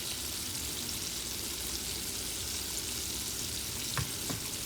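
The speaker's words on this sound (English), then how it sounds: "And so you just want to fry that." Pork pieces fry in an uncrowded pan for Louisiana-style green beans, giving a steady, dense sizzle that stays loud throughout, with a couple of faint clicks near the end.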